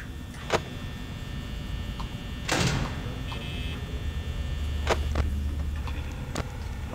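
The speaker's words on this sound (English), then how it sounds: "We've got to shut the door." A door slams shut in the Five Nights at Freddy's horror game, one sharp broadband thud partway through, set against a steady low electronic hum and a few scattered clicks and ticks.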